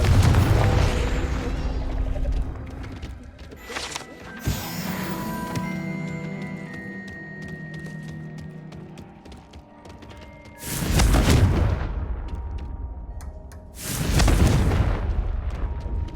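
Confringo blasting spells going off in Hogwarts Legacy: two loud, deep booming explosions land near the end, with a softer burst a few seconds in, over a steady game backdrop and no talk.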